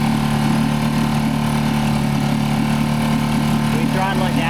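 A Honda outboard motor idling on a boat transom, a loud steady mechanical drone under people talking nearby.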